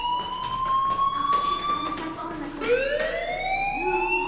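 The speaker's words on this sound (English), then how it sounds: "do you hear that fire alarm? That means you should be outside." A school fire alarm in the Life is Strange video game wails continuously, a steady high electronic tone that shifts pitch partway through, with a voice speaking briefly over it.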